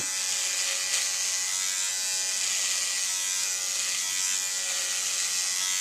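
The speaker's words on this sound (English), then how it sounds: "the pivoting head on this Conair shaver is just awesome for how I need to shave." A Conair electric shaver with its guard removed runs against bare skin, giving a steady, close, loud buzzing hum that holds without break throughout.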